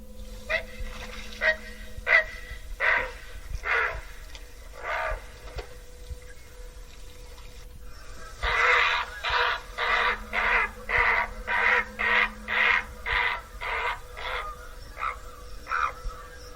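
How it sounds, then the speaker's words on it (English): A recorded great blue heron gives a series of harsh, croaking squawks: a few scattered calls at first, then a rapid run of about a dozen loud, rhythmic croaks, with no one talking. "Listen to this great blue heron and see what you think."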